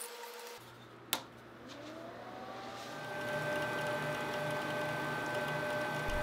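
An xTool P2 55W CO2 laser cutter powers up with a sharp click, then runs with a low steady hum and rising whines as its fans and pump spin up, close and alone.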